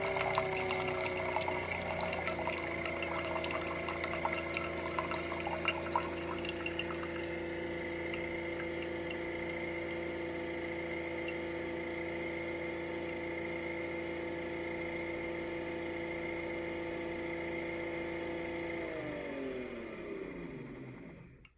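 A Nespresso Vertuo coffee machine runs a cleaning cycle, a steady mechanical pump hum with water running through it, continuous and close, winding down near the end.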